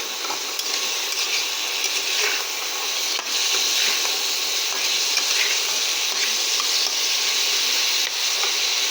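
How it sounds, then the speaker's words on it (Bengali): Spiced potatoes sautéing in a pan with a splash of water for a dry yardlong bean dish, a steady hiss of sizzling and stirring that runs continuously with no talk. "জলটা দিয়ে আলুর সাথে মশলাটা খুব সুন্দরভাবে কষিয়ে নেব।"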